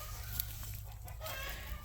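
Chickens cluck faintly in the background against a steady low rumble, with no voices.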